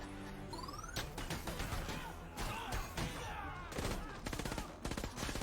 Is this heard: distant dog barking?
no